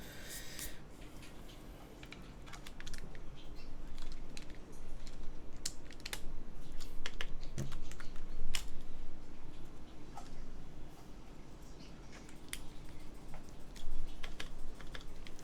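Keycaps are pressed onto a TKL mechanical keyboard, producing sharp irregular clicks and taps close by against a quiet room background, continuing through the whole stretch.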